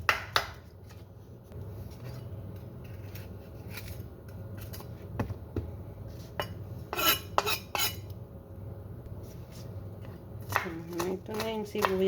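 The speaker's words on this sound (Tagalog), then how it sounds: "Ito naman yung ilalagay natin sibuyas, guys. So balatan natin." Onion skin being peeled by hand in a kitchen gives soft, scattered crackles and rustles, with light clinks of utensils over a low background hum.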